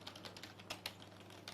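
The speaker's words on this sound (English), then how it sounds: "so this is the sound of the keys." Keys of an Aivia K8100 Gigabyte gaming keyboard are typed in a quick, irregular run of soft clicks, fairly faint and close, with no voices.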